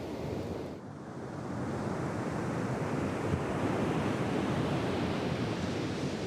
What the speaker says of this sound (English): the sea is what we call strong, you know, it's strong movement in the sea